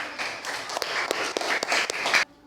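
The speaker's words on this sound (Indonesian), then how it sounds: "Nah, tepuk tangan buat Rahmat." Classroom applause for a student named Rahmat after his group presentation, a dense patter of many hands clapping for about two seconds with a few sharper claps, then stopping abruptly.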